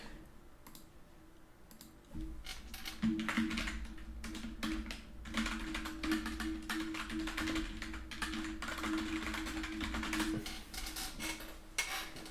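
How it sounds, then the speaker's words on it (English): Fingers type on a computer keyboard at close range in a continuous flurry of quick clicks and taps, set against a low steady hum. "you just heard me typing"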